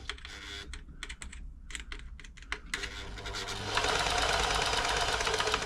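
Old New Home 641 sewing machine sewing a stretch straight stitch, starting with short stop-start bursts of clattering needle action, then running steadily and louder as fabric feeds back and forth.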